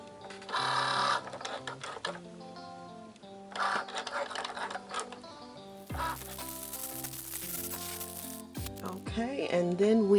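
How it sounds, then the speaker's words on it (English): A vinyl cutting machine cuts a name into a vinyl sheet: a steady whirring, stepping motor hum with shifting tones and bursts of higher buzzing, running continuously at close range. "it should begin to cut the name in the vinyl"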